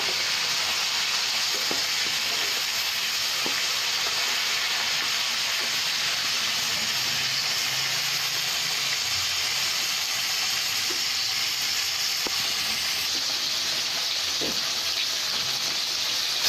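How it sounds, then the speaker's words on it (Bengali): Pieces of brill fish fry in hot oil with a loud, steady sizzle and hiss that holds throughout, with occasional faint clinks of turning the fish. "মাছগুলোকে উল্টি পাল্টি ভালো করে ভেজে নেব।"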